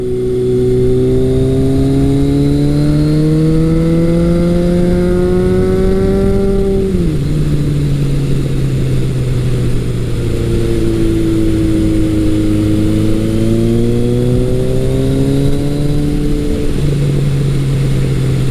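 A 1981 Kawasaki KZ1000 motorcycle with a Delkevic exhaust and full baffle revs loudly up close, its engine note climbing, dropping sharply, then rising again in two long sustained pulls with no one talking.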